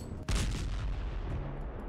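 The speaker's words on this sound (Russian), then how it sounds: "Выстрел прям вообще убойный." A single heavy gunshot booms out in the video game Ravenfield, followed by a rumbling echo and sustained low battlefield noise.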